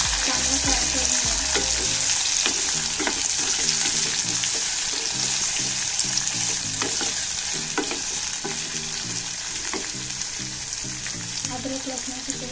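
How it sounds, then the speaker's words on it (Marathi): Tomato and onion frying in a pan for egg biryani, giving a loud, steady sizzle throughout with repeated stirring scrapes. "त्यानंतर टोमॅटो, कांदा, चांगला फ्राय करून घ्या।"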